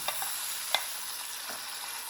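Small chicken cubes frying in masala give a steady, fairly quiet sizzle, broken by a few soft scrapes and clicks of stirring in the pan.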